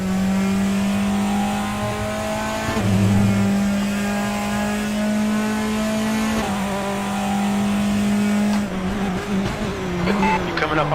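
A race car engine in the racing game RaceRoom at the Chang circuit holds a loud, steady high-revving drone. Pitch shifts and brief dips mark gear changes and corners.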